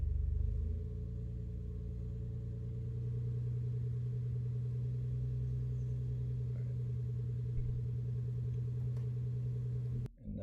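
A Lexus GS (1998–2005) with the 2JZ-GE non-turbo six-cylinder idles in a smooth, steady low hum with a strong even drone, close and constant for about ten seconds before cutting off abruptly.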